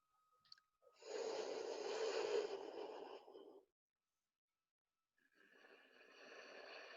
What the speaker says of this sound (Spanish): Es una respiración refrescante.